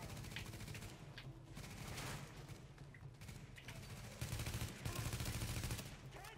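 Sustained automatic gunfire and rapid shots in The Division video game during a hospital rescue mission, dense and continuous bursts at a moderate, slightly distant level.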